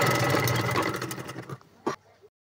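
An electric sewing machine stitching a boat neck blouse, a close rapid mechanical whir that slows and fades, a final brief burst, then silence.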